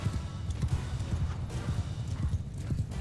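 Horse hooves pound in the video game Mount & Blade II Bannerlord, a fast, steady clip-clop of galloping under a dense battle rumble, with the odd whinny.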